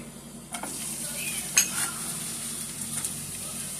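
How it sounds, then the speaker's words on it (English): Onions sauteing in peanut oil in a pan, a soft steady sizzle with a few louder stirring clatters and scrapes from a utensil, close by and with no talking. "I have some peanut oil I'm going to be using today. And let me just go ahead and add my onions."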